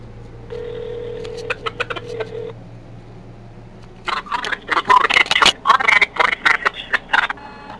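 A telephone call being placed, with a dial tone and a quick run of keypad beeps, then a string of clipped electronic tones from the line, all close and clear without talk.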